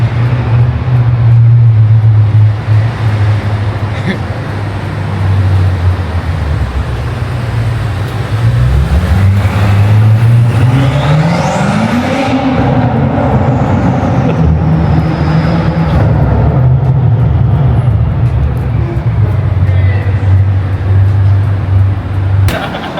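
A car engine roars steadily and loudly, its pitch climbing and dipping as it revs hard under full throttle uphill, with wind and road noise throughout.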